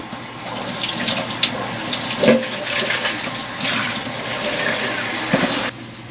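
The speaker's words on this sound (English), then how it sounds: "We're going to get some water." Tap water pours steadily into a pot in a home kitchen, a close, loud splashing gush with shifting tone as the pot fills, stopping abruptly near the end.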